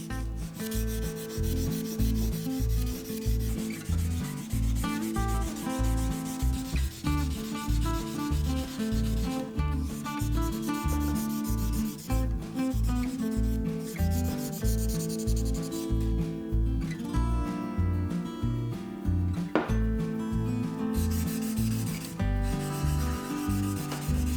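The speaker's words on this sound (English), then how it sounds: "Now on to some hand sanding, so that we go from this to this." Hand sanding of knife blades taken up to a 600 grit finish, heard as continuous, rhythmic abrasive rubbing strokes, loud and close, repeating steadily for the whole stretch with no talking.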